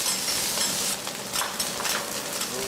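Osmanthus mock shark fin, a traditional Chaoshan dish, sizzles steadily on a hot iron griddle while a spatula scrapes and tosses it, a dense, continuous frying hiss with no voices.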